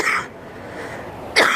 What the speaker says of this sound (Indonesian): Saya mohon izin agak batuk